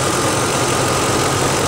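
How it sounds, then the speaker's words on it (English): A Triton 5.4 liter truck engine idles steadily at close range, a continuous even rumble with a low throb and no voices over it. "I think you can hear me over the motor run."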